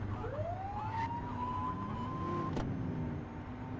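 A brief police siren blip in The Precinct video game: a rising wail that sweeps up and holds, then cuts off sharply, heard over low vehicle engine rumble with no talk.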